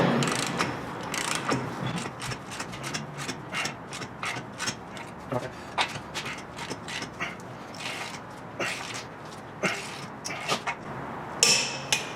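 A torque wrench ratchets down the CV axle nut on a 2010-2015 first-generation Chevrolet Volt, tightened to 111 foot-pounds: close, crisp ratchet clicks in irregular bursts and runs across the whole stretch, with no talking.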